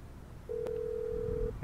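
A single steady electronic phone tone in GTA V, held for about a second over quiet game background sound, with a brief click near its start.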